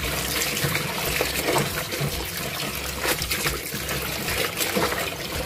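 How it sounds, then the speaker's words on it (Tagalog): Water runs steadily from a tap, splashing and trickling as a rubberized print on fabric is rinsed with plain water, close and continuous with no talk. "babanlawan ko na siya. Ayan, tubig lang yan."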